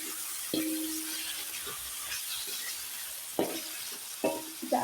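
Soaked crackers and chillies sizzle in a pan while being stirred, a steady frying hiss broken by several sharp scraping stir strokes, close and clear, with no talking.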